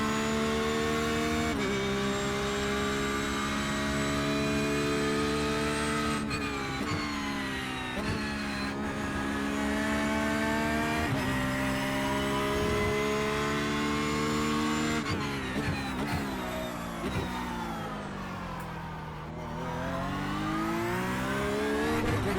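A Porsche 911 GT3 R race car screams through its gears at Snetterton in iRacing, a steady loud engine whine rising and dropping with each upshift and lift, heard alone without talk.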